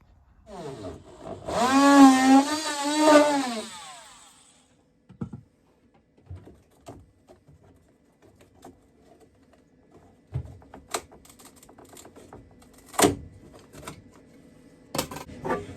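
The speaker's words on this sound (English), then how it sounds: "So I'm going to cut away using my multi-tool." An oscillating multi-tool cuts a hole aboard a narrowboat during a water heater install, giving a loud buzzing whine of about three seconds that wavers as it bites. Scattered clicks and knocks follow in the quiet afterward.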